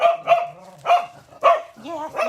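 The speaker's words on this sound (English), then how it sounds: "our barking corgi brigade" Two corgis barking indoors, several sharp high yips and barks in an uneven sequence, close and loud, with some whiny bark tones between them.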